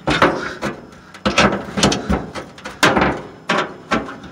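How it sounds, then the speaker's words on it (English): A quarter-inch nut driver turns the mounting screws of a Frigidaire oven heating element, a close series of short scraping ratchety bursts in uneven rhythm, each lasting under a second, with no talk. "1/4-inch nut driver. Usually they're Phillips, but this is 1/4."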